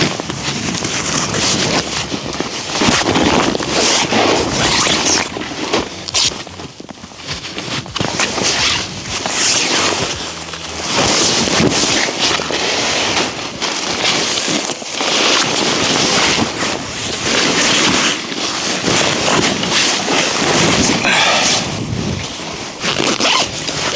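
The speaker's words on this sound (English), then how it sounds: "this is like barely any wind, but it is some cold wind" Cold wind blows across a frozen lake during ice fishing, a constant loud buffeting rush against the microphone with gusty surges and rough flapping throughout.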